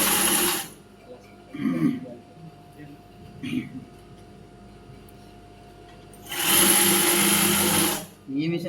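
A sewing machine stitches pyjama fabric in two loud whirring bursts, a short one at the start and a longer one near the end, with a person talking in the quieter gap between them.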